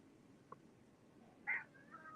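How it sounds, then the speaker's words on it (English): A pet cat gives a faint short meow early on, then a louder, clearer meow near the end, set against a quiet indoor background with no talking. "Hey, Jenny, it's my kitty."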